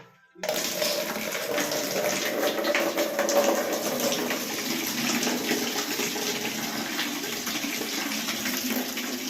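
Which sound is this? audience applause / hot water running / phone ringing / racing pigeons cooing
hot water running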